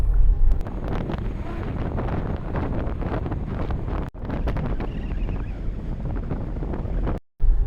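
Strong easterly wind roars across the microphone on a boat at sea off northern Okinawa, a constant loud buffeting rush with brief dropouts and no voices.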